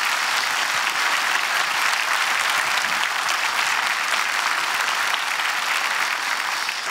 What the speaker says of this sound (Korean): 큰 박수로 마지막으로 모시겠습니다